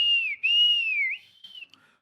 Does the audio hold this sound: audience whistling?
yes